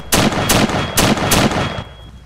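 Gunfire in the Arma 3 video game: four loud close bursts of rapid automatic shots in quick succession, each with a short echoing tail, no voices.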